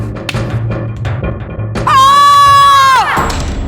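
A man screams in a historical action drama scene. One long, loud, sustained yell rises out of a background of scuffling and low murmur, then breaks off after about a second.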